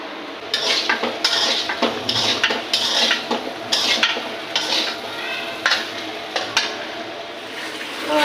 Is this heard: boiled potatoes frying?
yes